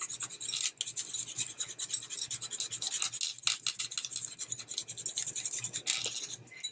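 A watercolor crayon scrapes steadily across paper with a dense, rhythmic rubbing, close and fairly loud, pressed on with a heavy hand.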